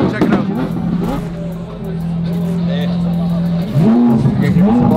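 A Lamborghini's engine idles and then revs in short rising blips amid crowd chatter, the pitch climbing and dropping in quick bursts near the end.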